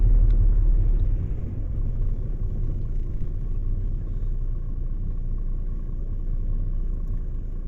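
A car engine rumbles low and steady while driving, a continuous road drone with a slight swell at the start and no talk over it.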